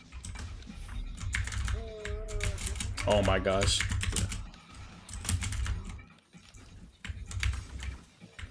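Rapid clicking of a wireless computer keyboard runs steadily under nearby voices and game audio, with people talking over it throughout.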